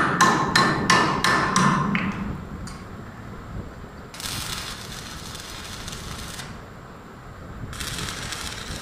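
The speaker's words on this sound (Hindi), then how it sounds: "तमाम कब्ज़ों को प्रेस कर लेंगे" A hammer presses metal hinges into a wooden door during installation: five or six sharp, close blows in quick succession, followed by quieter hissing, scraping noises.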